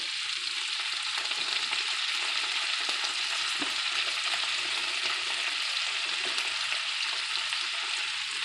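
Washed cabbage cooking with onions in bacon fat in a pot, a loud, even and continuous sizzle close by, with faint stirring scrapes underneath.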